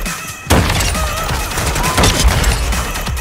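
Call of Duty gunfire breaks out abruptly after a brief quieter moment, a loud, dense burst of rapid shots and impacts that continues without pause to the end.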